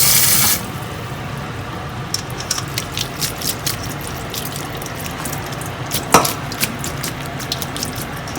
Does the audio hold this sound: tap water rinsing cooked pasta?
yes